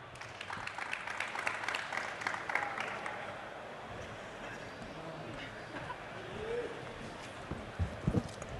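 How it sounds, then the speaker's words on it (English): Scattered applause from a modest crowd for panelists at a Bitcoin talk, loudest early on and then thinning out, with some murmuring and a few sharp knocks near the end. "Give it a round of applause for our panelists."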